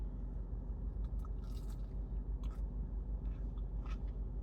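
Someone bites and chews a crispy fast-food mozzarella stick from Jack in the Box, a few soft crunches and mouth sounds up close over a steady low hum, with no talking.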